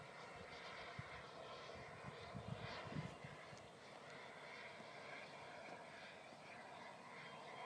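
A BVM Bandit RC jet flies on its approach, its turbine a faint, steady whine and rush heard from a distance, with a few soft bumps early on.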